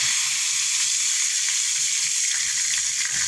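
Fish pieces frying in oil in a pan for Filipino escabeche, a steady, dense sizzle that stays loud and even throughout with no talking.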